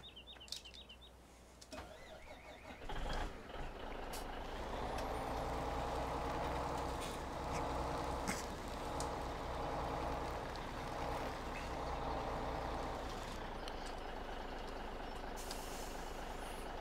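Farming video game truck with a steady engine drone, a hiss of air brakes, and repeated reversing beeps running through most of the stretch, with faint bird calls early on.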